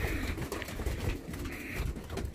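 Young pigeons in a loft coo softly and continuously, several low burbling calls overlapping close by with no talking.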